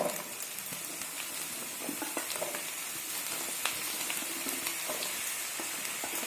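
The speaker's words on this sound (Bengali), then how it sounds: "অল্প যখন একটু সেদ্ধ সেদ্ধ হয়ে যায় ভাজা ভাজা আলুটা সেই সময় আমি বেগুনটা দিয়ে দিলাম" Aubergine and partly cooked potato frying in a pan, making a continuous close hiss and crackle with faint stirring clicks throughout.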